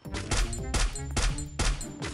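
Gunfire in the shooter game Free Fire: four quick bursts of loud, close shots, evenly spaced and each ringing out briefly before the next.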